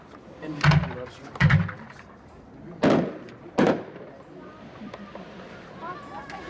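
Consumer firework cake Too Hot to Handle at a demo show, four sharp booming thumps in two pairs roughly a second apart, followed by faint crackle, with a voice talking quietly in the background.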